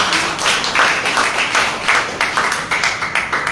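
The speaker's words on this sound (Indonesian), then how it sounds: "tepuk tangan Tuhan." A church congregation applauds during a sermon, loud steady clapping from many hands filling the room in a continuous rhythmic patter.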